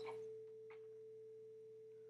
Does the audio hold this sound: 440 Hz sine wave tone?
yes